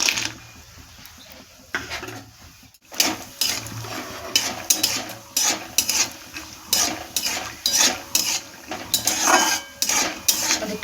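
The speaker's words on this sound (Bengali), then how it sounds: "তেল গরম হয়ে গেছে, বাদামটা ভেজে নিচ্ছি।" Peanuts frying in hot mustard oil in a kadai, with a steady sizzle under repeated loud metallic scrapes and clinks of a spatula stirring against the pan.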